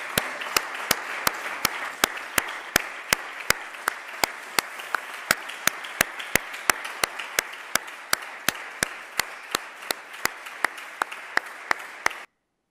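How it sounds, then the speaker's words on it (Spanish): Applause in a regional parliament chamber comes through as a steady crowd patter with regular sharp rhythmic claps punctuating it, sustained at an even level for about twelve seconds before cutting off abruptly. "Aplauso que nos daban sus señorías en la Cámara Regional a todos nosotros"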